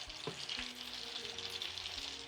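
Potato chips sizzle and crackle steadily in hot oil while being laid in, a dense bubbling hiss that continues throughout.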